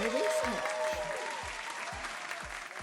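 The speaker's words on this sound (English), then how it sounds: "Round of applause." Brief crowd applause during a Sims modeling competition finale, soft and somewhat distant, with tonal sounds and a voice overlapping it.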